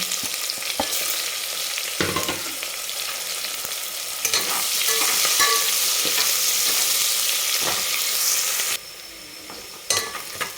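Sliced onions frying in a pan for a dhaba-style egg biryani, a steady loud sizzle with scraping stirring strokes throughout, alone without talk.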